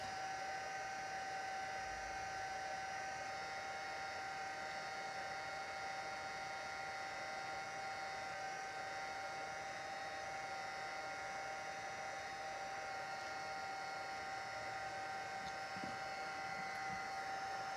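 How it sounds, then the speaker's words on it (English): Small craft heat tool blowing hot air while warming up to emboss a wedding card: a faint, steady fan whine with a constant high tone that runs unbroken throughout, with no talking. "let's bring in our heat tool. Heat this up."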